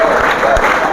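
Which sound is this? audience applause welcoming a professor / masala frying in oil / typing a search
audience applause welcoming a professor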